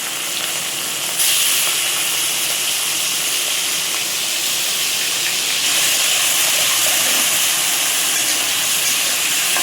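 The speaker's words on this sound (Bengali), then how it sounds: "চিংড়ি মাছটা ভাজা হলে, খুব বেশি ভাজবো না, হালকা হালকাই ভাজা করবো" Loud, continuous sizzling and hissing of prawns frying lightly in hot oil in a pan, steady throughout with a slight surge partway, no voices.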